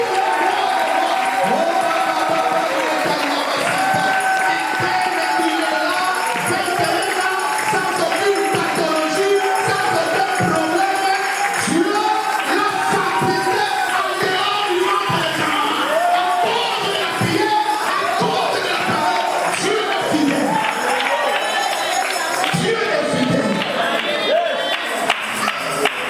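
A church congregation cheering and acclaiming for Jesus during a revival service, a sustained crowd roar with shouts and scattered clapping, loud and continuous throughout.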